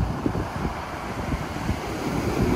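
Strong winter sea waves break and wash along the Black Sea shore at Riviera beach in Sochi, a dense continuous roar of surf mixed with wind buffeting the microphone, with no voices.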